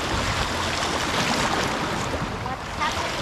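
Wake from a passing boat washing onto water during a fishing outing: a broad, steady rush of churning water and surf, loud and continuous with no clear break.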